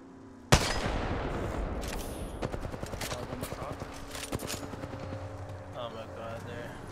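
Video game gunfire as a player burns through spare ammo: a sharp opening shot, then a long stream of rapid automatic fire crackling steadily for several seconds, with faint voices mixed in.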